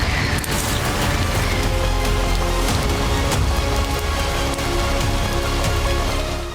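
Steady rain falls on a stone-stepped mountain path in Maharashtra, a dense, continuous patter of drops close by, loud and even throughout with no voices.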